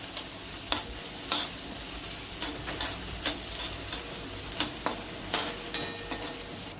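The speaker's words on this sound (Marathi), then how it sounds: "त्यामध्ये कांदा, आपल्याला सगळं फास्ट गॅसवर परतून घ्यायचंय." Onion stir-fried on a high flame with ginger and garlic, a steady sizzle punctuated by regular sharp scrapes and clinks of a spatula against the pan.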